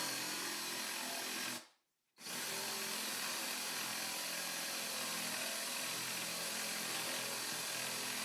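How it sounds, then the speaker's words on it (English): A power drill with a spade bit whirs steadily through wood, with a short pause early on before the grinding bore resumes and continues close and loud. "I'm just going to drill holes in opposite corners here"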